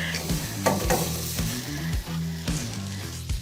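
Flank steak sizzles on a grill with a steady frying crackle, and tonal background music plays over it.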